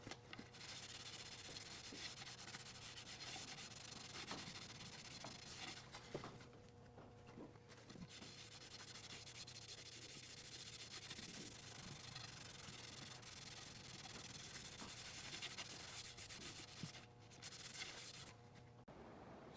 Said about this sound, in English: After sanding through the grits and rounding over the edges, it's time to stain.